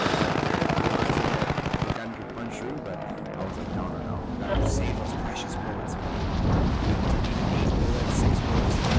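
A full-auto weapon fires a dense, rapid burst of about two seconds in Call of Duty: Warzone on PC, then someone talks over quieter game ambience.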